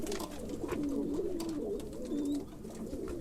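Pigeons coo continuously inside a coop of Turkish tumbler and costume show pigeons in Konya, soft rolling low calls close by, with faint background rustling.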